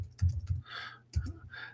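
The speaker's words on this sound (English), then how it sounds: "So I will type that in for you here." Quiet typing on a computer keyboard: a short burst of soft, irregular key clicks, close by and alone.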